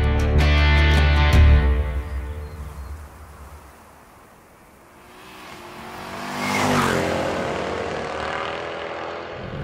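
The 6.2L V8 of a W204 Mercedes-Benz C63 AMG estate roars loudly, rumbling deep, then fades into the distance before swelling again as the car passes by.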